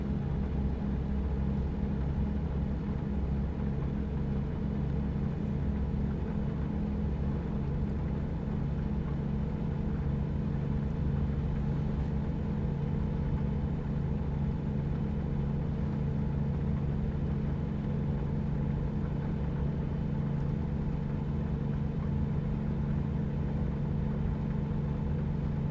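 A truck engine rumbles loudly and steadily at close range for the whole stretch, a deep continuous drone with no voices over it.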